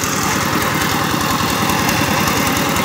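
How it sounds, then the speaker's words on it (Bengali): A Sifang 20 HP diesel power tiller with 18 blades ploughing a muddy field runs with a loud, steady chugging drone and a constant vibrating rumble, close by and uninterrupted throughout. "এখানে পাওয়ার টিলার দিয়ে কাদা জমি চাষ করা হচ্ছে।"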